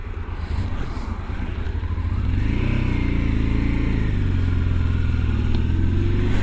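A rebuilt Honda Transalp motorcycle pulls away under higher revs, its engine rising to a strong, steady drone close by after a lower idle-like opening, with no talking over it.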